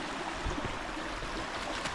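A creek flows on a wooded off-grid property near waterfalls. The soft, steady trickle and gurgle of water is faint and continuous, with no voices.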